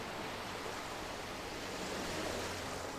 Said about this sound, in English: amidst the roiling waves of the Rotano Sea, lies the maritime city-state of Limsa Lominsa.